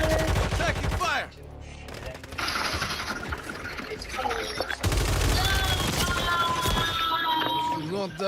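Gunfire in a military shooter video game, with loud bursts of shots and clanking mechanical effects layered through a busy mix and a brief quieter gap partway through.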